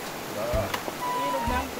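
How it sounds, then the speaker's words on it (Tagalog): Rain falling by a river outdoors: a constant close hiss of water with soft splashes, and faint voices underneath. "Ulan na siya!"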